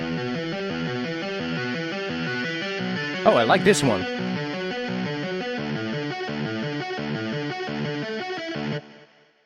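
A distorted synth plays a rhythmic pattern of gritty, buzzing stepped chords from a guitar distortion preset in UVI Falcon, while a person speaks briefly over it midway; the sound cuts off at the end.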